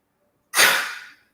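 A single sharp human sneeze bursts out after a moment of silence, close and loud, then tails off in a breathy trail.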